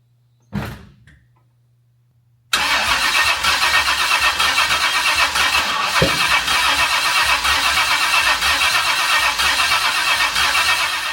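A single door thunk comes first, then a quiet pause. After that, the starter motor of a 1970s carburetted car cranks loudly and steadily for several seconds without the engine catching.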